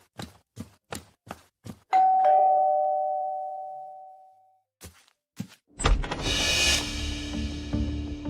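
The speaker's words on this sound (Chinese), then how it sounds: "这门铃声太刺耳了" A doorbell rings loud and near, with a long ringing tone that fades out, followed by dull knocks and thuds against a door.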